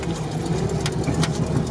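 The engine of a ZAZ-965 Zaporozhets "humpback" car runs off-road with a steady, buzzing mid-pitched drone and a fast rhythmic throb, moderately loud and close, without speech.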